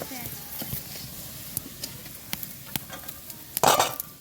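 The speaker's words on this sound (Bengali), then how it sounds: "সব লাল লাল করে ভেজে নিয়েছি" Fritters frying in oil for an iftar spread, a soft steady sizzle with scattered clicks and pops, brightening into a louder crackling burst near the end, with no talking.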